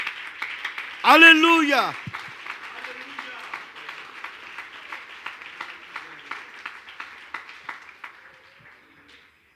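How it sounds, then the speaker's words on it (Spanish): A church congregation applauds after a voice calls out, and a steady patter of many hands keeps going for several seconds before gradually fading away. "Oiga, me regala un aplauso para Él."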